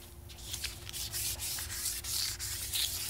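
Steady abrasive sanding on a Buell XB9SX motorcycle tank cover being prepped for Plasti Dip, a continuous rough rubbing with repeated back-and-forth strokes, close and fairly loud, no voices.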